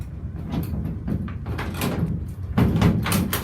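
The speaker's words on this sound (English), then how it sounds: "this side door doesn't open" Someone tries the side door of a 1999 Dodge Ram 3500 enclosed utility truck, producing several loud metallic rattles and clunks at close range in repeated bursts, with the heaviest jolts near the end.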